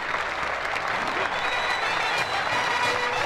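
A bullfight crowd in the arena applauds a matador's pass with the bull, a continuous dense wash of clapping and crowd noise throughout, fairly loud and steady.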